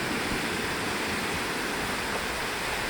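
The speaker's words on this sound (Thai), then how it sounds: "เป็นน้ำตกอะ่ะ" A waterfall formed where a dam blocks a river gives off a steady, even roar of rushing water. The sound is continuous and moderately loud throughout, with no voices.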